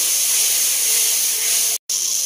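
Spice masala for prawn malai curry sizzles hard in a pan after water is added, a loud continuous hissing spray that cuts out briefly near the end, then resumes.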